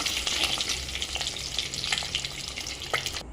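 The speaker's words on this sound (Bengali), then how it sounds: "ডিমগুলো ভাজা হয়ে গেছে, একটু হালকা, বেশি ডিম ভাজবো না" Eggs frying in oil in a pan produce a continuous bright sizzle and crackle, close and steady, with a few spatter pops and no voices.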